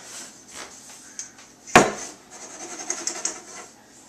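Risen wheat baguette dough being punched down in a kitchen: one sharp thump stands out amid soft rustling and handling noises, with lighter taps afterward.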